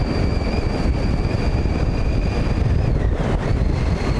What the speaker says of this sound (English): wow, the wind is kicked up in here